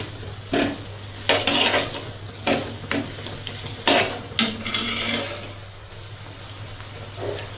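Onions sautéing in a pan with pav bhaji masala while being stirred: continuous sizzle broken by repeated loud spoon scrapes against the pan, under a steady low hum.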